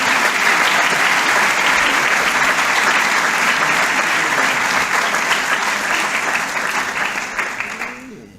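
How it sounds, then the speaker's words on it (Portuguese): Sustained applause from an audience at a clinical cycle ceremony, honoring Professor João Bernardes, dense and steady clapping that fills the room before tapering off near the end. "eu queria também pedir uma salva de palmas, obviamente, para o professor João Bernardes"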